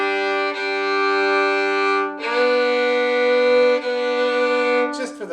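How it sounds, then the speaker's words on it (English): Bowed string instrument playing sustained double stops, two notes at once, one long down bow then an up bow on each pair, with a clear break between strokes; steady and close, ending in a short scrape. "we usually do 2 bows per each set of double stops"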